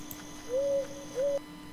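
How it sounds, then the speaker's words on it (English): Owls hoot in the video game The Last Door, two smooth drawn-out hoots a moment apart, clear over a faint steady background hum. "I hear owls."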